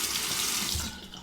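Tap water runs hard into a sink while a razor is rinsed under the stream, a loud steady splashing hiss that eases slightly near the end.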